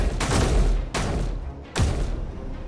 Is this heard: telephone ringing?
no